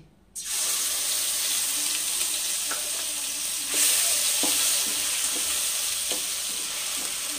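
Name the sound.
ginger, onion and garlic paste sizzling in a pan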